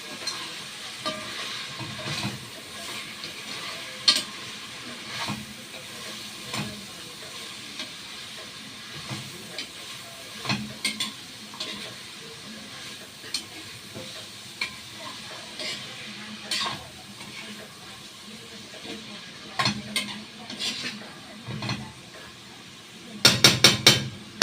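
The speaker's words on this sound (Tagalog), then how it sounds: "Then nahaloin ko." Adobo sitaw with ground pork being stirred in a pan, with steady sizzling hiss and repeated scraping, clanking spatula strokes throughout, ending in a quick burst of rapid metallic taps, close and without talk.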